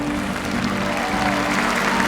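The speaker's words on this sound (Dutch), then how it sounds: "Geef ze wel een applaus mee." Audience applause rings out at a championship inspection of young studbook stallions, a steady, dense clapping that fills the hall for about two seconds over a faint background hum.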